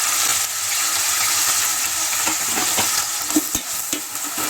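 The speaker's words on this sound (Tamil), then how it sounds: "வெங்காயம் பொன்னிறமாக வதங்குற வரையும் ஒரு 5 மினிட்ஸ் வெயிட் பண்ணலாம்." Sliced onions with a little salt fry in a pan for vegetable biryani, making a steady close sizzle broken by occasional clacks of a stirring spoon, with no voices.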